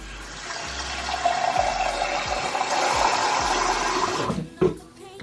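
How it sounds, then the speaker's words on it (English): Tap water runs steadily into a cup for several seconds, a loud close gushing stream that cuts off near the end, followed by a brief clunk as the cup is handled. "I fill this cup with water."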